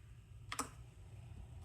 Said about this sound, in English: I'm typing with one hand here